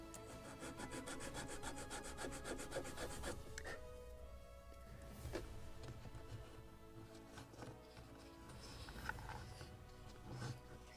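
Wooden part of a 1776 gunboat Philadelphia model ship kit being bevelled along its lower edge, giving steady close rasping and rubbing strokes that run continuously with a few sharper scrapes.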